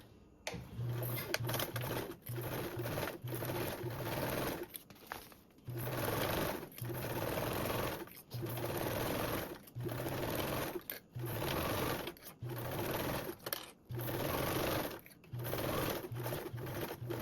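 A sewing machine bastes duffle bag panels with a 1/8 inch seam allowance, running close and loud in quick stitching bursts separated by short pauses.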